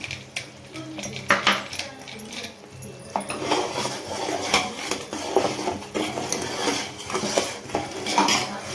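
Syrup with flour and cardamom being stirred in a pan for ariselu: continuous close metallic scraping and clinking of a spoon against the pan, with faint talk in the background.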